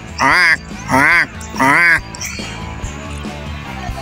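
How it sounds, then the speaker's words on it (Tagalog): Crows caw near Tambak Beach on Banton, giving three loud, harsh calls in an even rhythm close by, followed by quieter background noise and fainter bird sounds. "Mga uwak, mga idol, oh. Ang lapit nila."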